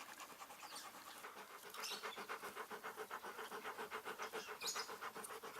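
A Rottweiler pants rapidly and rhythmically close by, quick breathy huffs repeating steadily throughout.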